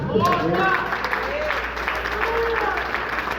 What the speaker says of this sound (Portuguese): A igreja, aplauda o nome do Senhor